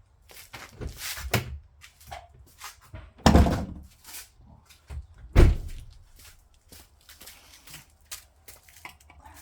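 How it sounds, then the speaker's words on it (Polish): An Audi A4 B7 bonnet is released and lifted, giving two loud thunks with a latch-like clack, surrounded by softer handling knocks and rustles close to the car. "I trochę podniosę maskę. Idzie sama do góry."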